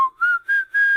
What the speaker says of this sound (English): Sounds like a guy who's just learning to whistle